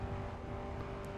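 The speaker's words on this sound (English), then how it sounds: "I keep forgetting I have NOS. Gives me a nice little boost." In The Crew racing game, a car engine roars steadily under a NOS boost at high speed, a continuous, fairly faint drone with a sustained tonal whine.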